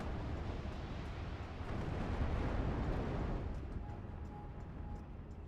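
A PE-3 bomber's attack on a Flak 36 anti-aircraft gun in the strategy game Steel Division 2: a dense, rumbling roar of explosions swelling to a peak midway, then slowly fading into a lingering wash.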